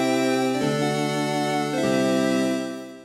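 Prophet 12 synthesizer playing an Indie Cheese Organ patch: sustained, loud harmonic organ-like chords that shift in pitch twice, then fade out near the end, heard alone without talk.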